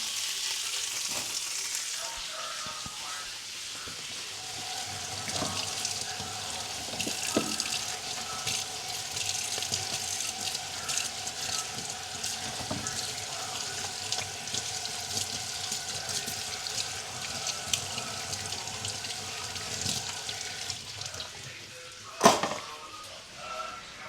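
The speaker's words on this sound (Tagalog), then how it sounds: "Lagyan natin ng konting tubig." Water runs from a kitchen tap in a home kitchen while sausages in artificial casing are cooked, a steady close hiss of flowing water with sizzling and clinks around it and a sharp knock near the end.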